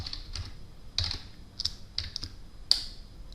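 Light typing on a computer keyboard while entering R code, with a handful of scattered, close keystrokes and short pauses between them, heard alone in a quiet room.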